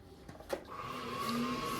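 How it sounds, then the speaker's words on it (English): A Penn State Turncrafter wood lathe spins up after a couple of clicks, settling into a steady motor whine that rises slightly and holds, close and moderately loud with no talking. "There's a slight delay with this lathe. This is a Penn State Turncrafter lathe."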